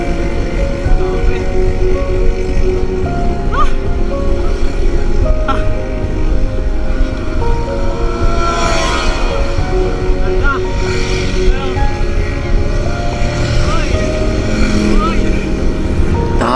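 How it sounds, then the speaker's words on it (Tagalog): Fast motorcycles pass on a road during a long bicycle ride to Baguio. Their engines swell and fade several times over a constant roar of wind and road noise. "Biglang may dumaan na mga mabibilis na motorsiklo."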